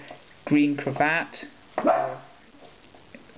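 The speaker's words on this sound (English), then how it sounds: "sorry about the dogs barking" A dog barks a few times in short bursts, mixed in with a person talking nearby.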